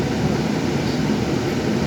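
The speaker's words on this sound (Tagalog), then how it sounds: "Maingay aircon" A loud, steady broadband hum of a noisy air conditioner fills the cabin of a bus. The drone holds constant and close, with no speech over it.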